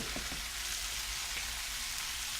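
Tomatoes sizzling in a hot pan at the end of cooking for a fagioli salad, a steady dense crackle close up with a few soft knocks, no voices.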